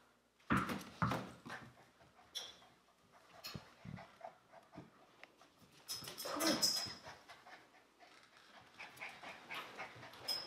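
A mutt dog pants in quick, uneven bursts close by, with snuffling and small whimpers, punctuated by soft thumps and shuffling.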